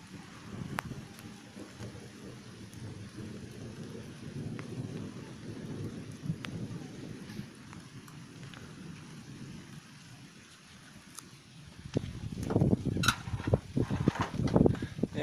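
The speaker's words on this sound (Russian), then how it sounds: "Вот видно, да, что дождь идет." Steady rain falls outdoors, a dense even hiss with distant rumbles of thunder, swelling heavier and closer near the end with no talk.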